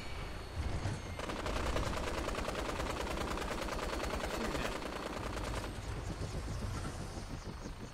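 Rapid automatic gunfire in Fallout 4 VR, with Brotherhood forces in the fight, erupts in a dense, loud, continuous burst lasting several seconds before trailing off into scattered shots and noise.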